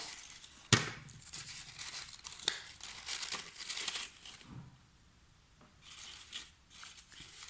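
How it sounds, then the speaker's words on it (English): Tape crinkles and tears in a few sharp bursts while paper robot legs are secured to the bottom of the body, close and fairly quiet with brief pauses between pulls. "we are just going to secure the legs by taping the bottom of the body to the legs"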